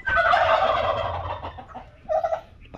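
Turkey gobbling close by, a loud warbling gobble followed by a short second burst after a brief pause, heard alone without talk.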